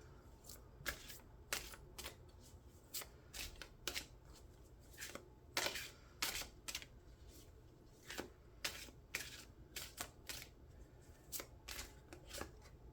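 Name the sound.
shuffling oracle cards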